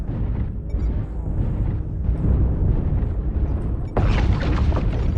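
An artillery strike in the MechWarrior Online video game pounds with deep, rolling booms and rumbling blasts, then a sharper, louder explosion bursts in near the end.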